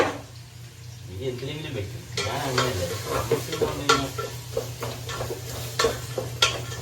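Steady hissing sizzle of onions stir-frying in a pan, with repeated scrapes and clatters of stirring; faint voices murmur in the background.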